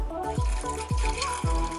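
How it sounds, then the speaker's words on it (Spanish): Cold water pours from a tap into a cooking pot holding glass jars of home-preserved mackerel, a steady close splashing and gurgling fill that rises in gentle repeating surges. "Cubrimos con agua fría."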